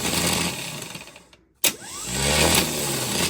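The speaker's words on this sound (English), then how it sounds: "got the starter back out. We're gonna go ahead and test it." A Chevy 350 starter motor on the bench whirs with a harsh, steady grind, cuts out for a split second, then kicks back in with a sharp jolt and keeps spinning loudly.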